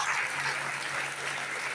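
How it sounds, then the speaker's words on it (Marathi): A crowd at a Shiva Mahapuran religious discourse claps in a soft, steady wash of applause, fairly distant and continuous with a faint hum beneath. "टाळ्या अशा वाजव"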